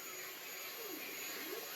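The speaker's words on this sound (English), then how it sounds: "Gotta remember to shout over the noise of this printer." A 3D printer runs nonstop, making a loud, steady broadband whir like a fan-heavy machine hum that stays even from start to finish with no voices.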